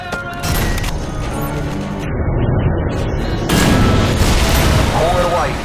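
Missiles from an AGM-armed drone strike and explode in a Call of Duty battle, heavy booms and blasts rolling continuously under game chatter and radio voices.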